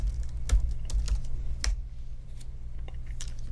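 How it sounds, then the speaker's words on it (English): Typing on a computer keyboard: a handful of quick, close key clicks in short bursts, with pauses between them over a low steady hum. "Let's just type in an artist,"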